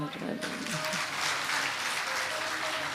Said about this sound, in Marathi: वा वा वा, जोरदार टाळ्या